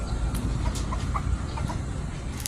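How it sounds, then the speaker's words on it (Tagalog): Shamo chickens cluck softly amid a constant noisy outdoor rumble, with a few faint clucks rising over the background. "manok yan sa kapitbahay natin, napakalaki"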